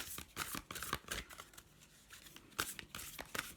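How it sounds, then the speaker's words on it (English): Oracle cards being shuffled by hand during a reading, a series of quiet, soft riffling and sliding card sounds in irregular bursts, close but faint. "And give it one more shuffle."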